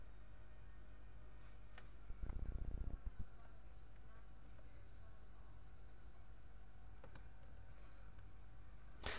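A short burst of rapid computer keyboard typing, entering a command on an Ubuntu system, a quick run of close key clicks lasting about a second against a quiet room, followed by a faint single click.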